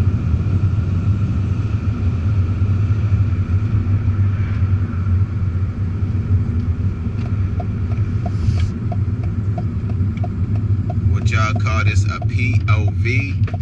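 Continuous low engine rumble of a Mercedes CLK 430 driving, heard from inside the cabin, steady and loud with some ticking and faint higher sounds near the end.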